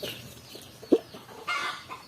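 A Shamo crossbreed rooster clucks in short bursts, with one sharp louder cluck partway through and a rougher vocal burst near the end, close by over faint background noise.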